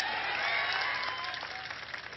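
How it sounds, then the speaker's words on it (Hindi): Crowd applause at an outdoor political rally in Belgaum, a dense, sustained wash of clapping from a large audience that holds steady and then eases slightly toward the end. "ठोको ताली।"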